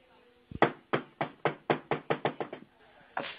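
Over an emergency phone call, a person bangs heavily: about ten rapid knocks in a burst, speeding up slightly, then a single final thump, muffled by the phone line.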